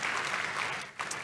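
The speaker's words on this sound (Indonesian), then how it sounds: "Kasih tepuk tangan yang meriah untuk Tuhan Yesus." A church congregation breaks into lively applause for Jesus at the close of a sermon. The clapping is brief, fairly soft and steady, with no other sound over it.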